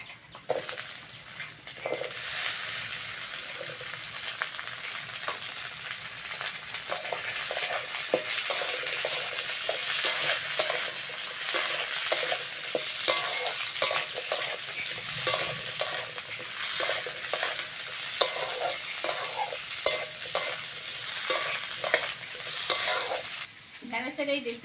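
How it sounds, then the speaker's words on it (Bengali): Potatoes frying in hot oil with onion and green chilli, stirred continuously, a steady loud sizzle broken by scraping spatula strokes against the pan, lasting throughout with no voices. "আলুটাকে ভালো করে ভেজে নিতে হবে"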